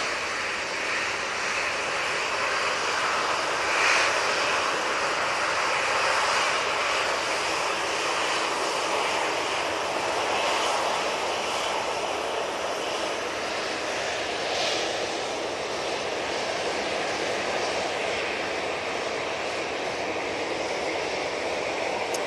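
Tui airliner taking off from Manchester Airport for Zakynthos, a steady distant jet roar with broadband hiss holding for over twenty seconds.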